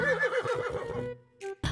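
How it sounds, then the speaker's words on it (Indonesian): A horse in the video game Jurassic World Evolution 2 gives one loud, close, quavering whinny that breaks off, followed by a short snort and a final burst, with no voices. "Ada 1 ekor kuda"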